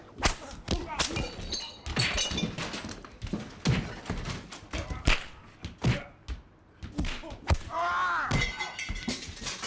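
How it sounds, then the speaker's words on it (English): Repeated sharp thwacks and thuds of a school thrashing, loud and close, falling in an irregular rhythm across the whole stretch with no speech. "The noise of corporal punishment."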